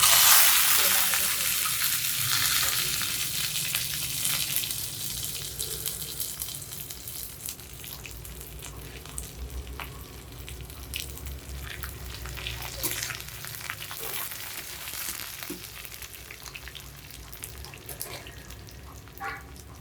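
Cashews fry in oil for a jackfruit biryani, a bright sizzle that starts loud and settles into a softer, steady crackle with scattered pops and stirring scrapes.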